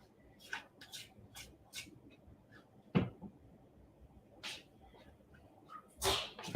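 A sharp, loud sneeze bursts out close by, with another explosive sneeze a few seconds later, amid soft clatter and light kitchen noise while baking a mug cake.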